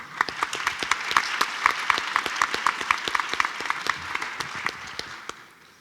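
Applause at a literary panel during a Mario Vargas Llosa biennial, with sharp individual claps clearly audible from a modest audience, fairly close, steady for several seconds before tapering off at the end.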